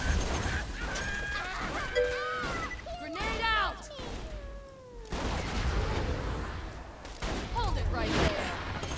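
A grenade is thrown in Borderlands 2 amid loud game combat, with cat-like warbling cries, crashes and gunfire-like bursts throughout and a brief quieter gap near the middle.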